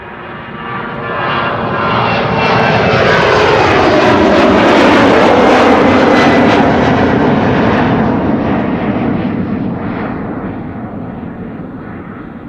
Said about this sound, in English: Eastern Airways, flying on behalf of KLM to Leeds, Embraer 190, flight 1019